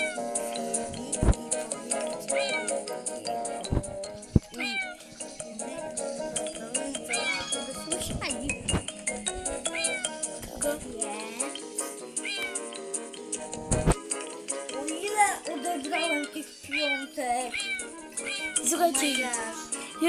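Repeated cat meows and yowls from the cat simulator video game, fairly loud and close, over a continuous bed of game sound with a few sharp clicks and a voice talking.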